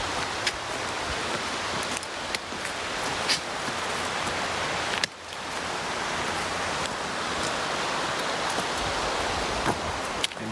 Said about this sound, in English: Just like that, the rain stops.